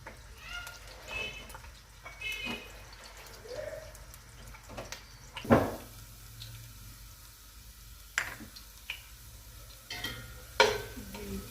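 Onions frying in a pan, stirred now and then with sharp scraping knocks over a faint steady sizzle, with a few loud clacks spread across the stretch.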